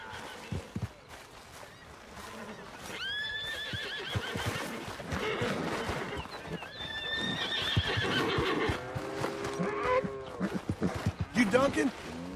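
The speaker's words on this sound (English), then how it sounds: "Need a hand with that horse?" A horse whinnies loudly several times with clip-clopping hooves nearby, while people talk intermittently over the sounds.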